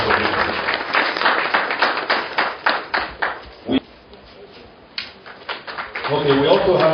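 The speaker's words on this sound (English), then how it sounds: "A round of applause for him." An audience at a gathering of religious leaders gives a round of applause that comes in bursts of hand claps, fading into quieter scattered claps midway before swelling again, with a voice briefly audible near the end.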